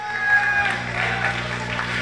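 Audience applause at a French gaming event, a steady wash of clapping with murmured crowd noise and some speech mixed in throughout.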